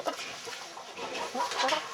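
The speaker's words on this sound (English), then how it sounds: "Happy chickens are mellow chickens, I think." Backyard urban chickens cluck softly and steadily, several birds murmuring together close by over a low outdoor hiss.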